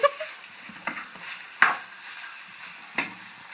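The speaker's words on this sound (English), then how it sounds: "we've got to let this sizzle for a little longer" Fajitas sizzle in a hot pan with a soft continuous hiss, punctuated by a few sharp clanks and scrapes of a utensil stirring the food, quiet and close with no voices.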